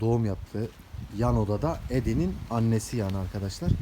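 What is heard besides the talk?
No everyday noises stand out.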